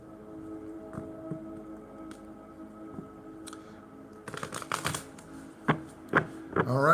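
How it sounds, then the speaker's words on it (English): Stack of tarot cards being shuffled, starting as quiet riffling and turning into louder, rapid bursts of card riffles and snaps near the end, close up with no talking. "shuffling the last stack of tarot and tarot messages"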